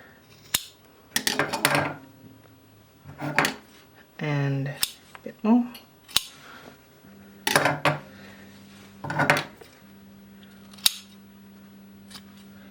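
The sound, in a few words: scissors cutting off a corner of cloth for a collar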